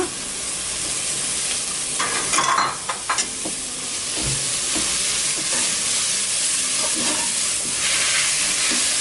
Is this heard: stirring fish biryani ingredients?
yes